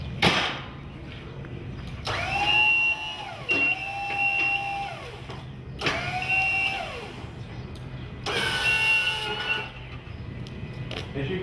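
Skyjack SJIII 3219 scissor lift hydraulic drive motor whining in three or four distinct rising-and-falling bursts as the steering is turned, heard close over a low background hum.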